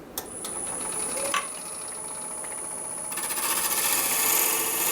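A shear scraper cutting a maple burl bowl on a wood lathe gives a steady, close whirring scrape over the motor's hum, with a sharp tick partway and the cut growing rougher and louder toward the end.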